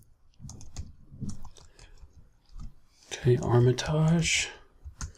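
Keys tapped on a computer keyboard to enter a program name, a few soft clicks mixed in with someone talking, followed by a louder burst of mixed sound near the end.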